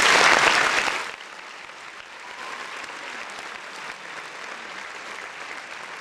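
A crowd at a live game showcase stream applauds loudly for about a second, then the clapping drops to a quieter, steady patter.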